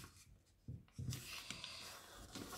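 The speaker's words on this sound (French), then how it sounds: "on va marquer le pli en pliant cette pointe contre cette pointe" Paper being creased and pressed flat while folding an origami Easter chick, giving a few short, soft scraping rubs close to the microphone.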